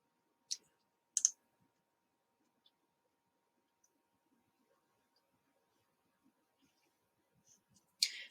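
A computer mouse gives a few sharp, faint clicks in a quiet room, two early, spaced apart, and a final cluster near the end, with no talk.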